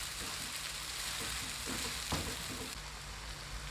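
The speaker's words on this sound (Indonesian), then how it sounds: "Ini kita masak dulu sampai harum, sampai daging ayamnya berubah warna." Ground dried shrimp and chicken with its bones fry in a pot, a steady, close, crackling sizzle that runs throughout with occasional stirring, and no voices.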